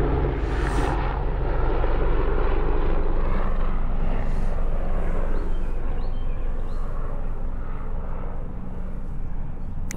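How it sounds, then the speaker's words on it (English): A helicopter passes overhead near a cemetery, its engine and rotor forming a loud, steady broadband roar that holds for the whole stretch without fading. "It's a helicopter."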